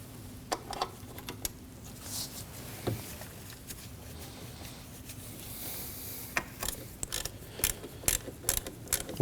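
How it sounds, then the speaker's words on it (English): Ratchet tightening valve cover bolts on a 2003-2006 Subaru Baja 2.5L H4 during a gasket replacement, heard as scattered short clicking bursts with light mechanical rattles, growing busier toward the end, close and fairly quiet. "start to bring the center bolt down"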